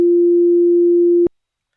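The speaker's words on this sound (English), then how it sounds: "It will play a 2-second sine wave sound." A pure sine-wave tone played with SoX holds one steady low pitch for just over a second, then stops abruptly into silence.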